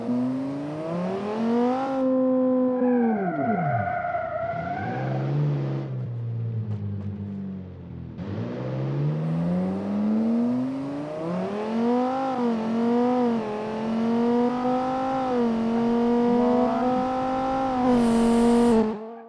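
A 1,700-horsepower car engine accelerates hard, loud and close, its pitch climbing through repeated surges with brief dips between gear changes, and no talk over it.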